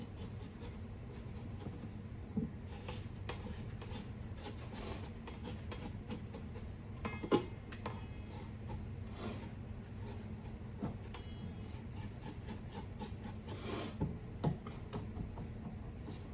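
A spatula scrapes around the sides of a bowl of gluten-free, dairy-free chocolate chip cookie dough, giving soft repeated rubbing and scraping strokes at close range with no talking.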